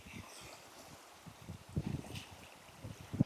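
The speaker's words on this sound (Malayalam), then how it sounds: "നല്ല കാറ്റുള്ളതുകൊണ്ട് ഇത് തിരമാല പോലാണ് കേട്ടോ ഓളം അടിക്കുന്നത്." Wind-driven waves lap against the shore of Parambikulam reservoir, a rafting spot, giving irregular soft splashes and thumps close by under steady gusty wind rumble.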